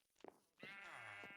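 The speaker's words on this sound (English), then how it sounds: "And there is the black sheep." A black sheep in Minecraft bleats, a short quavering call followed by a longer wavering bleat, clear and close with no voices.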